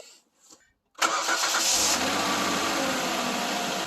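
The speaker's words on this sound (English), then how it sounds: "So now it's time to start the car." A Kia Sorento or Hyundai Santa Fe 3.5L engine cranks and fires after a brief near-silence, then settles into a loud, steady idle close by for the remaining seconds.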